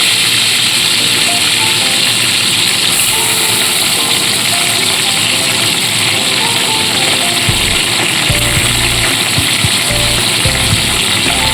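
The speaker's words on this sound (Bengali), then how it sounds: "আলুটা হালকা একটু ভাজা ভাজা করে নেবো" Potatoes and winter vegetables frying in a pan, a loud, close, continuous hiss of sizzling oil, with a few low knocks near the end and no speech.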